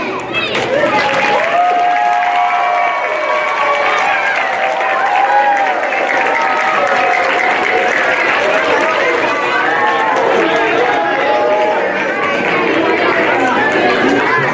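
Audience at a school holiday celebration applauding after a children's performance, clapping mixed with lively crowd chatter and excited children's voices and cheers, loud and sustained throughout.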